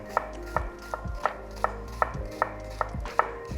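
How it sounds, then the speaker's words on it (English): A knife chops through a shallot on a cutting board, about nine crisp, evenly spaced cuts at a steady rhythm, close and clear with no talking. "We're gonna cut a shallot here."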